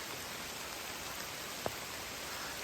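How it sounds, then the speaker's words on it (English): Pouring rain during a June thru-hike on the Appalachian Trail, heard as a steady, even broadband hiss from nearby with no talk, plus one short tap about two-thirds of the way through. "I don't know if you can hear it, but it's pouring rain."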